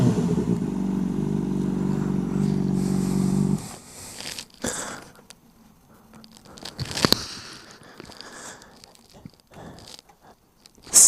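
A 2007–2012 Honda CBR600RR sport bike: a loud, steady engine hum for the first few seconds cuts off abruptly, followed by quieter scattered clicks, knocks and handling noises with a few sharp bursts.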